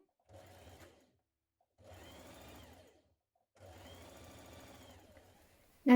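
A sewing machine stitches a seam on a Harriet jacket in three short, close bursts of steady whirring, each separated by a pause, with a sharp knock at the very end.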